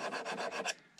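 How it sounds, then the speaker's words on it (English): A metal file rasps a flat spot onto a model airplane wheel axle, several quick scraping strokes in a steady rhythm, close and fairly quiet, ending with a faint final rub. "go ahead and just file a flat spot in them"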